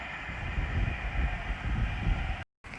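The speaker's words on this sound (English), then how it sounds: "right there is an LNER Azuma working service from London King's Cross to Lincoln Central" An LNER Azuma train on the East Coast Main Line at Biggleswade rushes past with a loud, continuous roar mixed with wind buffeting the microphone, then a brief dropout.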